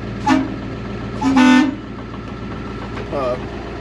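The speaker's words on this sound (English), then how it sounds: "air horn works great" Two short blasts of a 2001 International 4700 truck's air horn, the second longer, followed by a softer honk, over an idling engine rumble.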